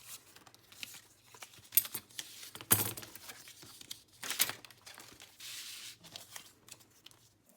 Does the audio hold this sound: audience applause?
no